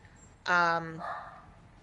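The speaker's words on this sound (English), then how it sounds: "Oh my gosh, my dogs." Dog barking indoors, a single short, close bark-like yelp under otherwise quiet room sound.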